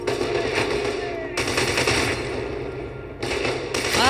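Sustained automatic gunfire and bullet impacts in the shooter game FEAR 2: Project Origin, dense and loud, with two brief pauses between bursts, no voices.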